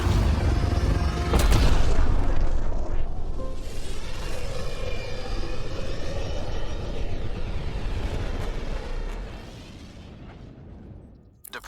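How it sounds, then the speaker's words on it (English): Departure of the Tempest spaceship in Mass Effect Andromeda: a loud deep booming rumble swells early, then a sustained roaring engine wash holds steady before fading out near the end, with no talk. "Nexus Control, this is the Tempest, Ident 2527, prepping to depart."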